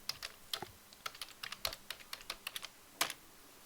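Keys on a computer keyboard tap out a password in a quick, irregular run of sharp, close clicks, about fifteen strokes with small pauses, in an otherwise quiet room.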